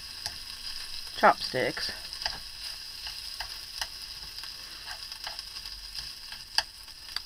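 Canned bacon frying in a pan, a soft steady sizzle running throughout with a couple of louder clatters near the start and a sharp tap later on.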